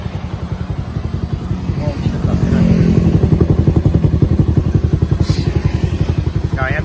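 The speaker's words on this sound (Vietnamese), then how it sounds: "rồi em nổ máy cái, rồi em đi vòng vòng cho anh chị cô bác xem" An old Honda motorcycle engine fires up and settles into a fast, even putter that swells slightly in loudness, close by, with a few faint voices and clatters over it.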